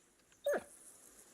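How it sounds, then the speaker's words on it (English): A dog in the video game Kingdom Come: Deliverance 2 gives one short, close whimpering yelp against a quiet background. "We fed our dog."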